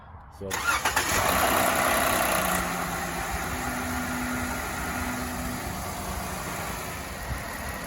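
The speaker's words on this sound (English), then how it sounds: "So Steve just started his Jeep and the code is gone." Jeep JKU engine cranks and catches, a brief loud burst that settles into a steady idle rumble, close by, with a faint voice in the background.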